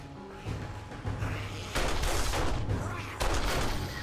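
Gunfire from the zombie survival video game 7 Days to Die during a blood moon night: several dense bursts of rapid shots with thumping low booms, loud and close, the bursts separated by brief lulls.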